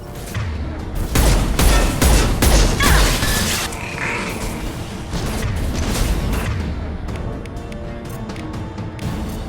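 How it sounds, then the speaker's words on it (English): Anti-ship batteries fire at a collector vessel in the game Mass Effect 2, heard as a loud, dense barrage of booming blasts and crashing impacts with mechanical clatter that rolls on for several seconds. "Firing anti-ship batteries at collector vessel."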